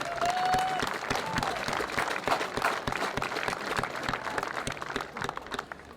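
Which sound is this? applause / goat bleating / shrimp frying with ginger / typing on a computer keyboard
applause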